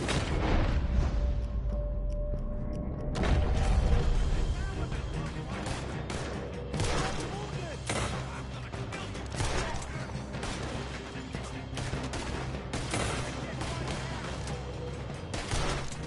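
Red Dead Redemption 2 gunfire rattles through a shootout against a horde, repeated booming shots and bursts over a dense rumbling game soundscape, loud and continuous with a voice briefly heard.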